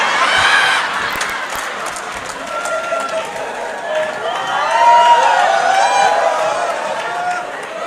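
An audience at a comedy show cheers and applauds, with a loud, swelling roar of claps and shouts and a voice calling over it.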